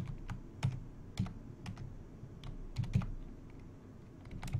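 Typing on a computer keyboard at a command prompt, a steady run of soft, close key clicks with a few sharper taps, no voice.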